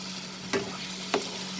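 Prawn keema with fresh coriander stems is stirred in a pan, a steady soft sizzle broken by two brief scraping strokes of the spoon, with no talk.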